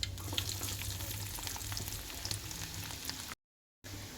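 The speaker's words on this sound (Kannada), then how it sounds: "ಇವಾಗ ಉಳ್ಳಾಗಡ್ಡೆ ಹಾಕೊಳ್ಳೋಣ ಇದ್ರೊಳಗೆ" Sliced onions sizzle and crackle in hot oil with cumin seeds, a steady close frying hiss with small pops and stirring, briefly cut to silence near the end before the sizzle resumes.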